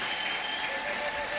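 A church congregation applauds, giving a dense, steady wall of clapping that holds evenly from start to finish.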